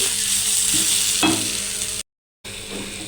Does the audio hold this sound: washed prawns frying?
yes